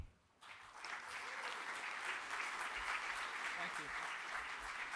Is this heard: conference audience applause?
yes